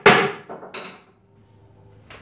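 A hammer taps on a wooden telescope mirror box: about four sharp, close knocks spaced irregularly across two seconds, the first loudest, with brief quiet between.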